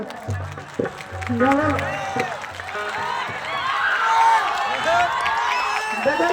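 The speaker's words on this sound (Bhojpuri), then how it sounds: "भैया एक पे तनी जोर से ताली बजाओ" Audience applause and clapping at a stage show in Buxar, Bihar, with scattered claps, cheers and whoops under amplified speech and music, the crowd noise building through the middle.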